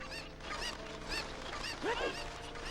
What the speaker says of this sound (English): If you continuously slash the chicken for long enough, it'll shriek out a call for dozens of killer chickens to start pelting you to death.